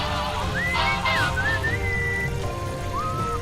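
Melodic whistling in the Sam & Max adventure game, a gliding, wavering tune with several rising and falling phrases over a continuous rain-like background hiss, moderately loud and alone without talk.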